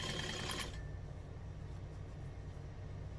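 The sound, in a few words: sewing machine stitching a fold over clutch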